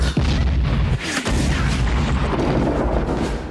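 A film-scene explosion lands as a deep, rolling boom with sustained rumble and crackle, loud and close, filling the whole few seconds.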